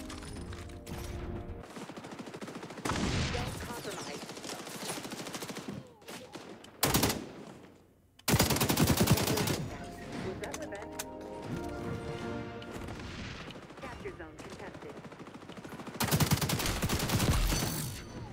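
AK rifle gunfire in the shooter game XDefiant comes in several loud, close bursts of rapid automatic fire, separated by quieter gaps with mechanical clicks and game sounds.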